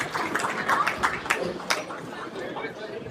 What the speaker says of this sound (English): Let's give him another hand of applause, Gary Sika